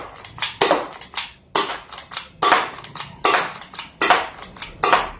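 A J-Shot gel blaster toy gun cocked and fired over and over, sharp plastic snaps and clacks in an uneven rhythm, loud and close, no talking.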